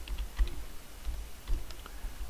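Key presses on a computer keyboard as a file name is typed, a few quiet, uneven clicks spaced through a short, fairly faint stretch with no talking.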